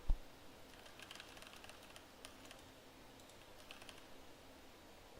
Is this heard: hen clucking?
no